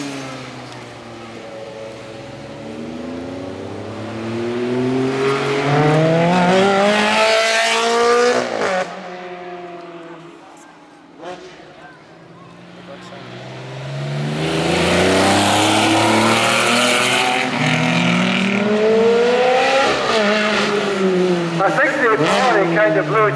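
A Ferrari V8 and a TVR race car at the Alford Speedfest 2012 sprint make two loud passes, with engine notes climbing and falling through gear changes and a brief quieter lull between the runs.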